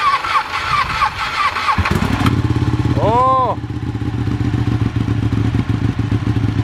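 Ducati 1199 Panigale motorcycle engine cranking and catching, then a quick rev rising and falling before settling into a deep, loud, close idle, with a brief exclamation from a person.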